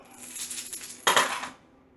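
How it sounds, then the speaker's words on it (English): Two dice are rolled in a tabletop game: a soft rattle builds, then a sharp clatter as they land and settle, fading out within half a second. No talking. "Roll 2 dice for me."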